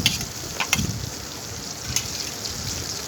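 Plenty of chopped onion sizzles in oil for a shrimp curry, a steady close frying hiss broken by a few sharp spattering clicks early on.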